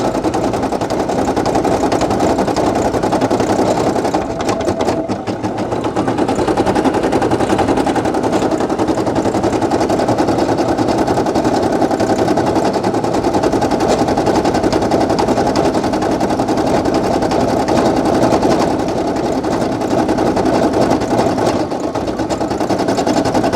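Brother PE800 embroidery machine stitching a design, a loud, rapid, continuous mechanical chatter of needle strokes that runs steadily for the whole stretch with one brief dip, no talking.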